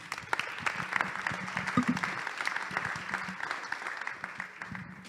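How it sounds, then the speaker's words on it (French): An audience at a data conference claps after a keynote, a sustained crackling ovation with individual claps audible throughout and a few faint voices underneath. "Bien, on peut l'applaudir."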